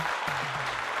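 Short burst of audience applause at the end of a science communication talk, a dense steady patter of many hands clapping at moderate level with no voices on top.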